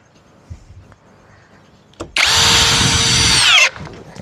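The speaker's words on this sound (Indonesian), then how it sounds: "Ukuran 22 nih ya. Speed 2 dulu nih ya. Mode drill ya." A power drill in drill mode, fitted with a dull 22 mm bit and set to speed 2, bores for about a second and a half with a loud, steady whine after a few faint knocks.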